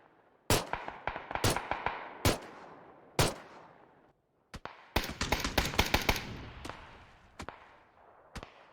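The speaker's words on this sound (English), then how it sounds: "I hear them shooting at each other as I'm running away" Sharp gunfire from a shooter video game: scattered single shots early on, then a dense burst of rapid shots in the middle, trailing into a few more isolated cracks. Loud and close, with no voices.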